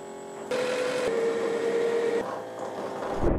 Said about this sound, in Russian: Цикл полоскания занимает 5 минут. Робот двигается туда-обратно, а из станции доносятся впечатляющие звуки